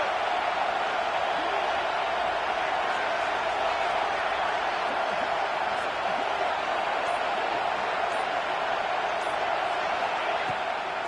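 A college football stadium crowd roars steadily behind the defense on a big third down, a broad sustained wall of cheering with a commentator talking over it.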